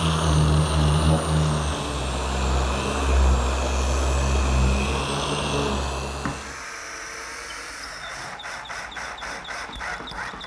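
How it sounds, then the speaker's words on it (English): A random orbit sander with 100-grit paper works across a soft pine tabletop, a loud, steady motor drone for about six seconds before it cuts off, leaving quieter scattered rhythmic rubbing. "now it's just a matter of sanding the whole top smooth with my random orbit sander"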